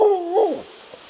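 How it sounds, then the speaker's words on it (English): A single drawn-out dog bark or yelp with a wavering tone, followed by a short echoing tail in a reverberant space in a forest. "the echo of her barking is really neat in here"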